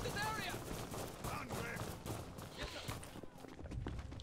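C96 pistol fire in the World War II shooter Red Orchestra 2, scattered shots and bursts of gunfire amid battlefield noise and running footsteps, with voices talking in the background.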